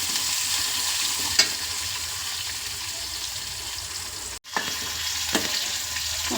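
Green chillies fry in a pan of oil for upma, a steady close hiss with faint crackles, a couple of soft taps and a brief cut in the middle.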